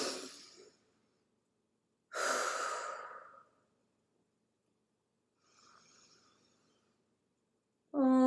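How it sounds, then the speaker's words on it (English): A deep cleansing breath during yoga practice, with a long soft exhale, a strong airy inhale, and a faint breath after a pause, close and quiet, ending with the start of a hummed tone. "First, a cleansing breath."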